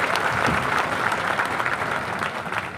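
A large crowd claps steadily and densely at an outdoor political campaign rally in Latur, the applause sustained and fairly loud throughout with no pauses.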